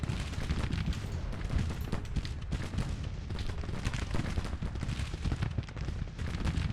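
Musket volleys crackle in a Civil War strategy game, a dense, continuous rattle of scattered gunshots with booming reports, layered and distant, with no pause across the stretch.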